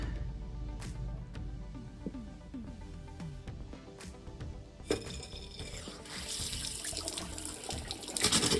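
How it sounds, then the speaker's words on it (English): Water gushes and splutters from a tap after a few clanks, sputtering with air at first, then running steadily and loudly. "Tighten the roll up, get water back on."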